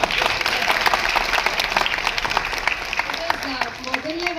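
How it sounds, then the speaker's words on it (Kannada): Applause for Mangala at a film event for the Kannada film Gatha Vaibhava, a burst of clapping from a crowd rising and then fading as someone talks over it. "ಸೊ ಇವತ್ತು ಮಂಗಳ ವಿಶೇಷ ಚಪ್ಪಾಳೆ ಅವ್ರಿಗೆ"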